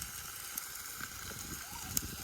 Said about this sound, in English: Gentle sizzling of bacon to show you